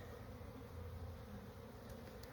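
Honey bees hum at an open hive during an early spring inspection, a soft, steady close drone that holds evenly throughout with no voices.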